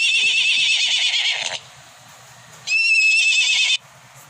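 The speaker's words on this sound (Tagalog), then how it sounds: "Oh, horse." A horse sound effect from the Animal 4D+ children's app gives two bright, shrill whinnies with a short pause between them, loud, close and clean, with no voices.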